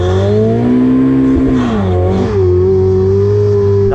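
A BMW M5 and a Ferrari 488 Pista warm their tyres before a drag race: a loud, steady engine drone holding high revs close by, the pitch dipping and rising briefly.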